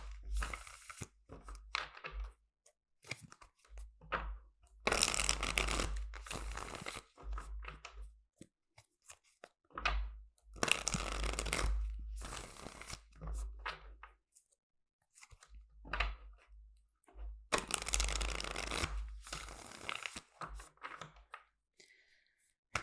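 Tarot cards are shuffled in repeated bursts of riffling and rustling, close and fairly quiet, with short pauses between the bursts.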